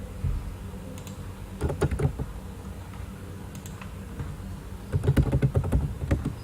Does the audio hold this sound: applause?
no